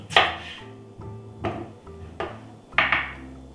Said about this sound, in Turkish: şöyle küp şeklinde doğruyoruz